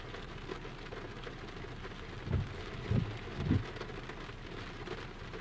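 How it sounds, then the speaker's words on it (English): Steady light rain patters close around, quiet and even, with a few dull low thumps breaking through near the middle. "As you can see and hear, it's raining."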